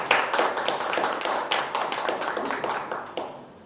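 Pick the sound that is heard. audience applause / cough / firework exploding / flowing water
audience applause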